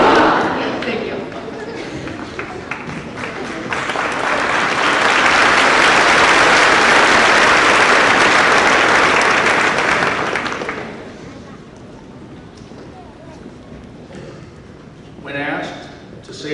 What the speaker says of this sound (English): give Mr. Nick a warm gym class welcome with 3 claps on 2.